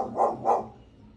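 A dog gives two quick, fairly close barks in succession, then falls quiet.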